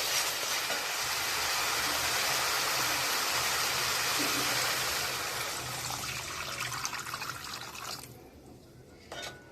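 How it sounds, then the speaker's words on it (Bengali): Water poured into a pan of frying spice paste for Bengali-style mrigel fish gravy, giving a loud sustained rushing hiss that fades into softer bubbling and drips, close up with no talk. "এবার এর মধ্যে দিয়ে দেবো জল।"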